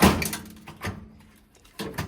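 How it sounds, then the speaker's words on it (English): A Samsung microwave door opens with a sharp, close latch click and then a softer follow-up clunk, with a short handling noise near the end. "Open the door."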